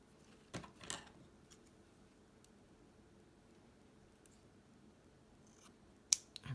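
Scissors cutting a length of ribbon in two for a handmade junk journal: a couple of quiet snips early on and another crisp snip near the end, close and faint in a quiet room, with no talking.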